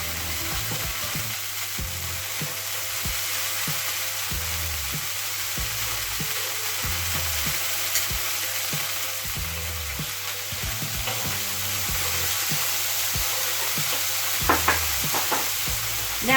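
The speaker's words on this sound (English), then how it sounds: "we are going to put some butter over the griddle plate, and we are going to wait till it is melted" Butter melts and sizzles on a hot griddle plate, a soft continuous frying hiss with faint scraping, close and steady with no voices.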